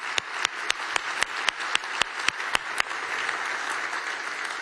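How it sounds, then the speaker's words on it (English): An audience at an evening networking event applauds, with a loud, dense wash of clapping and a few sharp claps standing out near the start, all at close range and without talk. "please give a warm round of applause to them"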